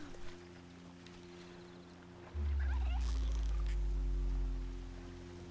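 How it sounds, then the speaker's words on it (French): A wild turkey in the video game Horizon Zero Dawn gives a brief warbling gobble, fairly faint, over a low rumbling in-game ambience and a steady hum, with no speech. "Oh, une dinde!"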